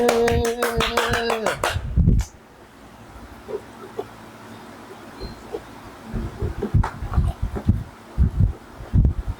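Scattered hand claps sound close by, following a short burst of rapid, ringing knocks, with irregular single claps toward the end.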